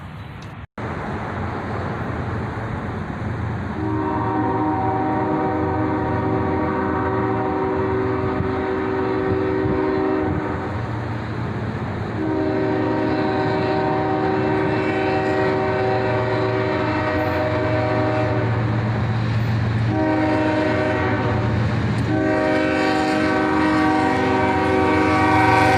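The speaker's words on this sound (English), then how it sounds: "a train finally arrived." A CSX freight train led by an ES44ACH locomotive with an ES44DC behind passes Washington Street, its loud horn sounding in three long blasts over a steady, heavy rumble of engines and rolling cars.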